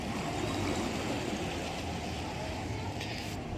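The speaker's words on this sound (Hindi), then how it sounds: "ये देखिए कैसे हिलकोरे, ओह हो, बहुत ही हार्ड।" Gomti river water lapping against the bank in dim light, a steady low rushing wash that holds continuous and fairly loud throughout, without distinct individual splashes.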